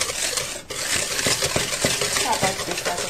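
A light yellow batter whisked by hand in a bowl, giving rapid, steady metallic scraping and clinking close by.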